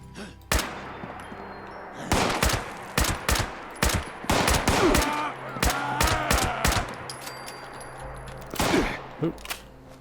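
Gunfire in Fallout 76 as a gun fires off stored rounds: a close, loud series of sharp shots in irregular bursts across the whole stretch, with clanking impacts and combat noise between volleys.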